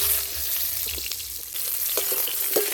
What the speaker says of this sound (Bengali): দেখুন বন্ধুরা, আমি আলুটাকে কষে নিচ্ছি।